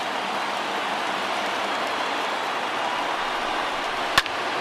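A large baseball stadium crowd in MLB The Show 2020 rising to its feet with a broad, steady roar of cheering, with one sharp crack near the end.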